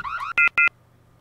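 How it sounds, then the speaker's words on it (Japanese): An electronic alarm in the horror game True Nightmares: a short warbling tone, then two loud, sustained beeps in quick succession, clear and alone before fading to a quiet hum. "アラーム、待って。"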